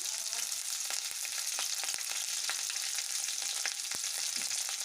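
Green chillies, onions, curry leaves and peanuts fry in hot oil for Bombay rava upma, a dense, steady sizzle close by, with scattered light pops and ladle taps and no talking.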